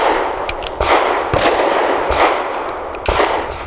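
An FN 509 Midsize pistol fires Hornady Critical Duty 135 grain rounds at a range, several sharp reports spaced irregularly, loud and close against outdoor background noise with no talking.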